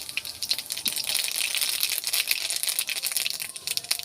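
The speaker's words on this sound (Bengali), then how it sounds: "তেল গরম হয়ে গেছে, আমি কালো জিরে দেবো।" Nigella seeds (kalo jeere) crackle and sizzle in hot oil for a pumpkin greens dish, a dense, steady frying hiss with small pops, close and fairly loud throughout.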